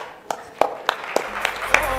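Sparse, scattered hand claps from an audience at a cooking event in Córdoba, a handful of distinct sharp claps spaced out over two seconds, with a low hum rising beneath.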